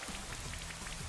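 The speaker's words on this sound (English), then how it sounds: "this, rain will help a little bit." Rain weather effect in the Pokemon Shield video game: a dense, steady hiss of falling rain with soft pattering drops, even and continuous throughout the short stretch.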